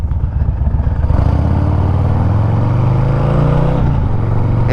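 A 1991 Harley-Davidson FXR motorcycle is ridden, its engine droning loud and steady with a rising pitch as it pulls, mixed with rushing wind noise and no talking.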